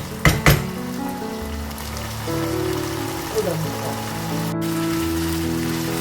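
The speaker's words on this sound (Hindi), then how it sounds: "अब हम इसको भून लेंगे फ्लेम को तेज करके" Beef karahi frying on a high flame gives a steady close sizzle with crackling. A couple of sharp clinks come at the start, and the sizzle runs under quiet background sound.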